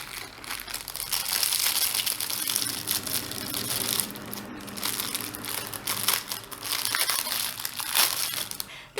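Cheap plastic packaging for a set of craft tools, including what looks like an orange zester, being opened: continuous close crinkling and crunching of plastic with brief rustling bursts, steady throughout with no speech.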